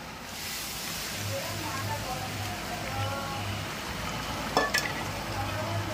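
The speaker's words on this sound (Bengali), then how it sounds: "মাংসটা ভেজে নিচ্ছি" Mutton fries in a pan with garlic and green chilli paste as a steady, even hiss, with a low hum underneath and a brief utensil clink near the end.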